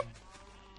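A short, faint Minecraft sheep bleat, a brief wavering cry heard alone at low volume.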